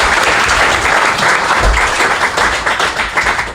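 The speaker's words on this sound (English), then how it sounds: "Round of applause for" Applause from a crowd at a live FujiCast podcast event in London fills the room with loud, sustained clapping from many hands, close and steady, with a few nearer taps underneath.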